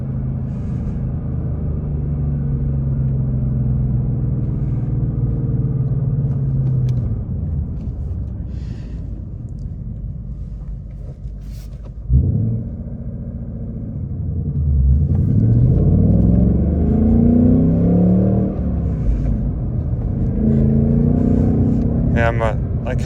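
A 2024 Ford Mustang GT with a manual gearbox, performance pack and active exhaust, driven on a mountain road into a residential area, holds a loud, steady low engine rumble, then rises through several climbing rev sweeps in the second half.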